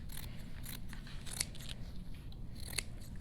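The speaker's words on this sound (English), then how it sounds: "So I'm just going to take my felt here and just cut around it," Scissors snipping through two layers of felt, close and fairly quiet, with two distinct sharp cuts amid a soft rustle of fabric.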